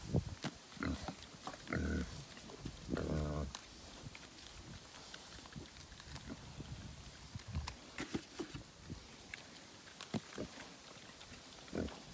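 Pigs on a farm feed on apples in the morning, with snorting grunts and squeals close by in two short bursts early on, then quieter rustling and chewing noises.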